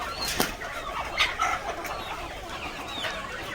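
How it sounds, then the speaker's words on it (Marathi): Village chickens clucking on a poultry farm filled with smoke, with scattered near and far calls and occasional wing flaps over a steady background. "कोंबड्या सर्व इकडे तिकडे धावत आहेत"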